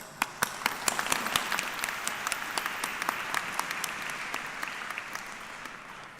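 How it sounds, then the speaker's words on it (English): A graduation ceremony audience at the University of Chester bursts into sustained applause, many hands clapping in a dense, even roar that slowly fades over several seconds. "Let's take a moment for a round of applause for us all"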